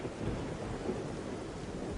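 Steady rain pouring down with a dense, even hiss and low rumble throughout, like a heavy downpour in a storm, close and continuous with no voices.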